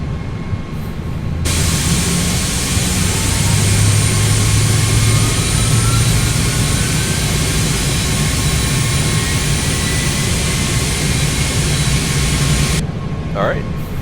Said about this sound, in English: Let's go ahead and start up number 2.